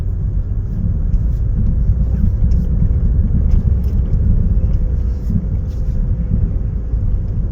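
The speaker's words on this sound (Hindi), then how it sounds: "छोड़ो ब्रेक, चलने दो गाड़ी, जाओ धीरे धीरे।" A car rolls away slowly after the brake is released during a driving lesson, heard as a steady low engine and road rumble from inside the cabin, with no speech.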